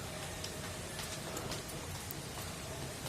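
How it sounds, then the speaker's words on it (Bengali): Cyclone Remal lashing the area with strong wind and rain, heard as a steady, dense hiss of falling rain that runs unbroken throughout, with no voices. "প্রবল বেগে বাতাসগুলো আসছে।"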